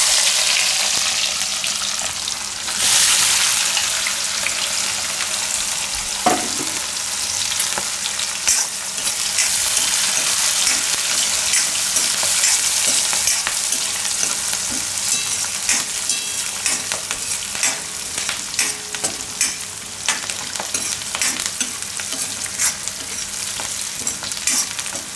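Onion sizzling in hot oil with bay leaf and asafoetida in a Gujarati home kitchen, a loud continuous fry with occasional stirring scrapes and a brief clatter, no voices.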